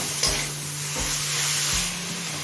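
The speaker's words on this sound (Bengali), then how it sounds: "চিকেন কীভাবে মিনিট তিন কষিয়ে নিয়েছি" Chicken being sautéed in a pan for khichuri sizzles steadily, with a few soft stirring scrapes breaking through a constant frying hiss at close range.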